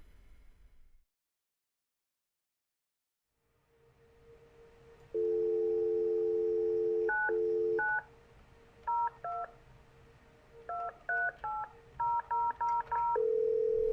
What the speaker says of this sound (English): Can I dial Halifax local or Montreal local 10-digit numbers?